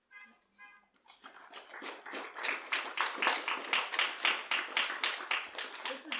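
A live audience claps steadily for several seconds, the applause swelling from a scattered start into a dense, continuous patter.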